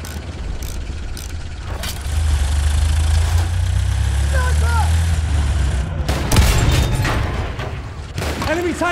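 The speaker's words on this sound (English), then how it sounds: "Enemy tank over there!" Tank engine in the Battlefield 1 video game, a loud low rumbling drone running steadily through the middle of the clip amid gunfire bursts, explosions and battlefield chatter.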